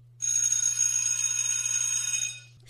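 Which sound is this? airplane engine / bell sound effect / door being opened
bell sound effect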